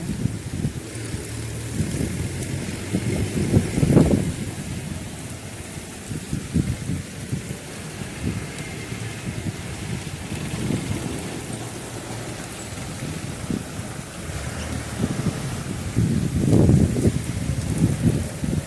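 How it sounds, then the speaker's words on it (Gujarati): Heavy monsoon rain with wind pours over farmland, a dense continuous roar of drops with low wind rumble that swells into stronger gusts early on and again near the end. "જોરદાર વરસાદ થઈ ગયો છે"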